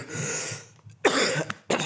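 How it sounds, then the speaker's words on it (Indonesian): A person coughs in short bursts: a longer throaty cough, then two sharp, close coughs, each breaking off abruptly into silence. "gue sampe batuk gue"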